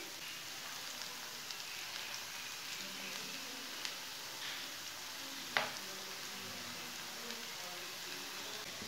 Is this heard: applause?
no